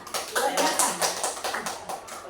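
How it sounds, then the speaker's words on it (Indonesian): Students applaud a classmate in a school classroom, brisk uneven clapping close by with a voice speaking over it. "Tepuk tangan untuk teman kita"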